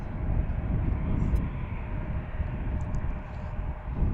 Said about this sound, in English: So watch American take the runway